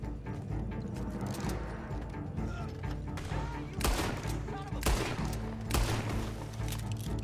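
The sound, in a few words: gunfire in the video game Red Dead Online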